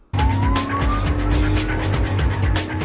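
A UK police car siren wailing close by, starting abruptly and sweeping in pitch over a loud vehicle engine roar, no speech.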